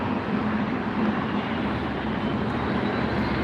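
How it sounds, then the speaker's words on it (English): A Turkish Airlines airliner coming in to land at LAX, a steady broad jet roar at moderate distance that holds evenly throughout with no voices. "I think that's Turkish Airways coming in."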